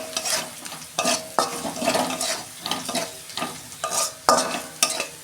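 Masala with tomato being sautéed in a pan over a low gas flame, a spatula scraping and stirring in repeated strokes over a steady close sizzle, with no one talking.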